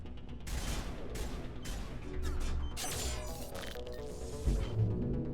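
Gunfire in a modded Mass Effect Legendary Edition: repeated crashing shots and impacts tear through a busy battle mix, with whooshes and a heavy thud near the end.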